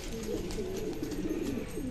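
Pigeon cooing inside a loft: low, throaty, rolling coos that run on continuously, fairly faint against a steady background hum.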